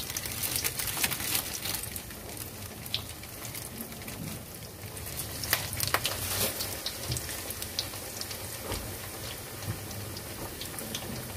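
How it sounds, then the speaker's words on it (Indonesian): Shrimp nuggets fry in hot oil in a home kitchen, giving off a faint, continuous crackling sizzle with scattered sharper pops and no talking. "Sekarang goreng nugget udang."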